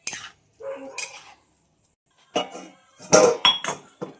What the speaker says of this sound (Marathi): तर झाकून ठेवते आता थोड्या वेळासाठी